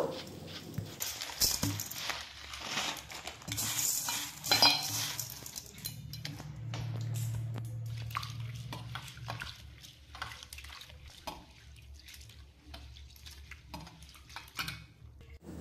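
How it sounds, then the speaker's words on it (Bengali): Mung and masoor lentils, 150 grams each, are washed together in a bowl, giving close clinks, knocks and swishing water that grow busier early and thin to scattered small taps, with no talking. "এবার দুটো একসঙ্গে মিশিয়ে ধুয়ে নেব।"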